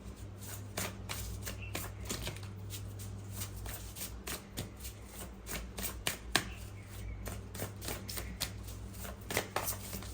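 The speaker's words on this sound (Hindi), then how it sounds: "चलिए, मैं और कार्ड लेती हूँ यहाँ पे।" Tarot cards shuffled by hand at close range, a quick, continuous run of riffling flutters and soft slaps over a faint low hum.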